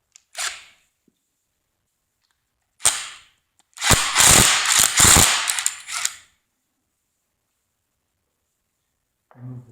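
A ratchet wrench loosens the jam nut on a tractor PTO, giving a few short clicking bursts and then a longer, dense run of rapid ratcheting clicks before falling quiet.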